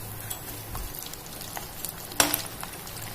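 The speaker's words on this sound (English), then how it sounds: "So the vadas have been frying for a while," Sabudana vadas fry in hot oil with a soft, steady sizzle and crackle, and a brief louder spatter or stir sound comes partway through. No one speaks.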